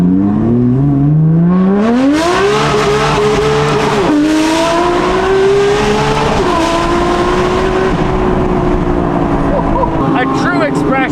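A Porsche GT3 RS fitted with a Valvetronic Designs RSR race exhaust revs hard through rising gears, a loud, raw, high-pitched engine howl that climbs, shifts and climbs again, close and continuous.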